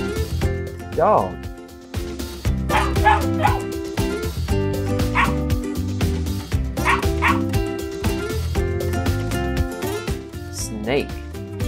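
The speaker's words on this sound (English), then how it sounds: "Dog." A dog yips and barks repeatedly in quick bursts, up close and fairly loud, with some whimpering mixed in over a steady background of music.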